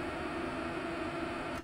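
A Serge modular synthesizer puts out steady grainy noise, a continuous hiss-like texture held for over a second before it cuts off abruptly.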